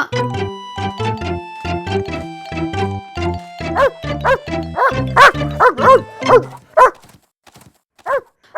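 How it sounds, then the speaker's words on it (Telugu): A big cartoon dog barks loudly in a quick run of repeated woofs, then the barks turn sparser and more irregular before trailing off near the end. "అయ్యో పెద్ద కుక్క"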